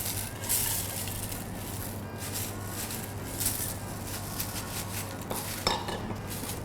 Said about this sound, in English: So just mix them all together, and then you'll find yourself the cookie mixture.